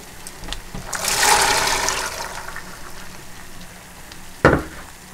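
Water pours into a pot of chickpea stew with potatoes and sofrito, a broad rushing splash swelling early and then settling into a steady bubbling hiss, with a sharp clatter near the end; no one speaks.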